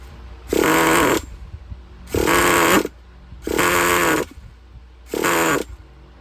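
A used Traxxas Nitro Slash 3.3 nitro engine with a fault fires in four loud, harsh bursts, each about half a second to a second long, separated by short pauses.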